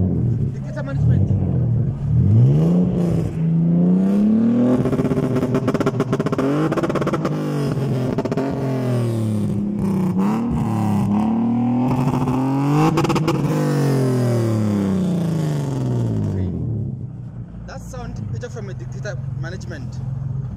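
BMW 330ci with a downpipe and Dictator engine management, its engine revving up and down in repeated loud, close swells over about fifteen seconds before settling to idle, with a voice speaking briefly near the end.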